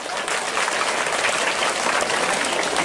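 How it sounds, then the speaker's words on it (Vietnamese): Audience applause at a school incense-offering ceremony honoring teacher Chu Van An, a dense, even wash of many hands clapping with no pauses. "Xin một tràng pháo tay cổ vũ cho Thuyết Minh Viên đặc biệt."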